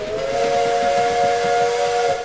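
A steam-style train whistle from the railway management game Railway Empire 2 blows as one long, steady, loud, piercing tone with a breathy hiss beneath, held unbroken for the whole moment with no talking.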